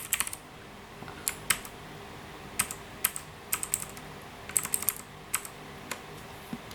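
Typing on a Teamwolf CIY Rainbow mechanical keyboard, close and crisp: irregular bursts of sharp key clacks, sometimes single and sometimes in quick clusters, over a quiet background.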